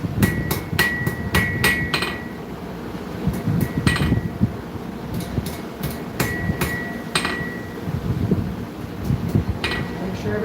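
A hammer forging metal on an anvil in a workshop, with irregular bursts of sharp ringing strikes, several in quick succession, over a steady background of fan and room noise.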